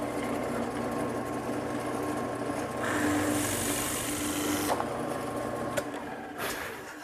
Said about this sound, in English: So I'm using this Forstner bit,